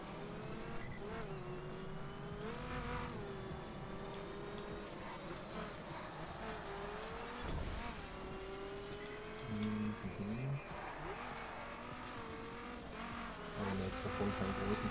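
Racing cars in The Crew, a driving video game, during an airport race, with continuous engine drone and tire squeal, skids and revving rising and falling throughout, loud and steady with no talk.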